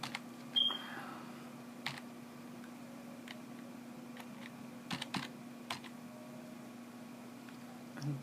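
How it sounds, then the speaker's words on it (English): Keys clicking on a computer keyboard while a search term is entered during an openSUSE 13.2 Linux setup, with sparse, quiet taps spread over several seconds against a low steady hum. "So we're going to go ahead and type"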